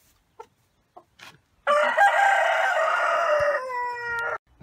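A rooster gives one long, loud, close crow lasting over two seconds, following a few faint clucks and small sounds against an otherwise quiet background.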